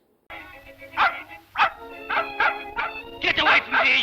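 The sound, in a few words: man imitating a barking dog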